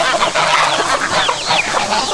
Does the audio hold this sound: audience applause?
no